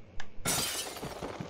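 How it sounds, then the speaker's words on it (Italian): A weak wooden barrier smashed apart in the horror game Amnesia: The Dark Descent, one loud sudden crash with a bright splintering burst that trails into a short rattling decay, preceded by a faint small knock. "Se sono tenuti insieme da una debole cosa di legno, rompi, sì."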